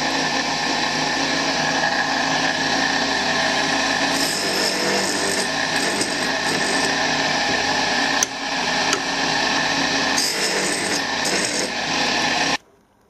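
Tool cutter grinder sharpening a drill bit, a steady close whirring grind with brief scraping contacts as the bit meets the wheel, continuous until it stops abruptly near the end.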